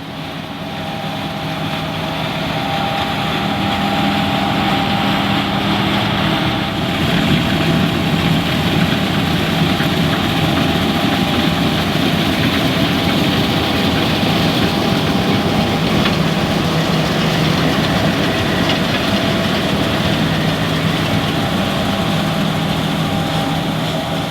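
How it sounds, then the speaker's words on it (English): Steady, loud engine drone of combine harvesters and large tractors working continuously, with a broad rumbling hum and no voices. "It was exciting to see the combines harvesting and the big tractors working on tillage."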